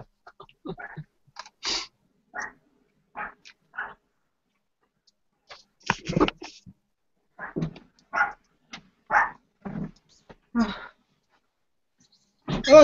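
A poodle barks in repeated short, sharp yaps spread over several seconds in irregular bursts, close and fairly loud against a quiet room.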